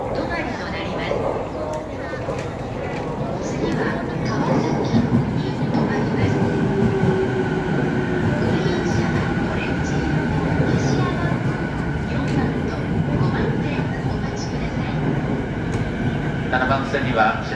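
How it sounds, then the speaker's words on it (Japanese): A JR E231 series 15-car train on the Ueno-Tokyo Line rumbles steadily into platform 7 at Yokohama Station, a low continuous roar with faint rattling, while a Japanese announcement speaks over it. "7番線には品川、東京、大宮方面、上野東京ライン、高崎行き15両編成で到着いたします"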